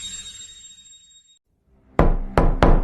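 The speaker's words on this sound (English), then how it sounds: "A knock at the door." Three sharp, loud knocks on a door sound close by, following a fading hum and a moment of silence.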